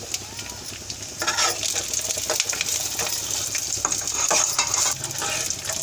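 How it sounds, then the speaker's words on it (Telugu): Raisins fried in ghee in a pan for a vermicelli dessert, with a steady close sizzle and irregular scraping strokes of a spoon stirring throughout. "ఇప్పుడు లాస్ట్లో కిస్మిస్ కూడా వేసి వేయించుకుందాం."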